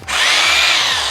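A BUILDSKILL hammer drill spins up and runs at full speed in one loud, close, continuous high whine, with no speech over it.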